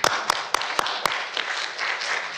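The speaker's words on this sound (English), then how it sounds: "All right, round of applause" Audience applause at the end of a conference session: a few sharp, separate claps first, then a brief wash of crowd clapping at moderate volume.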